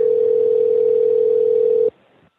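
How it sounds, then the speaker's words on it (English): A telephone dial tone rings out loud and steady as one continuous held tone, then cuts off abruptly, leaving faint room noise behind. "There's her phone."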